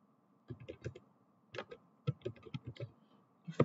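Keys on a computer keyboard clatter in short irregular bursts as code for a VBScript prime-number loop program is typed, close and fairly quiet, with pauses between clusters of taps.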